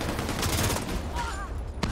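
A grenade goes off in the shooter game Tom Clancy's The Division 2, a dense rumbling blast with crackling debris that trails into scattered bursts of gunfire-like pops.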